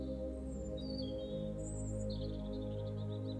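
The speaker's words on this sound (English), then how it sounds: "the sound of blackbirds and robins filled the air as April drew to a close." Blackbirds and robins sing in rural Irish countryside in late April, a few bright whistled phrases and chirps rising over a steady low background hum, fairly distant and soft.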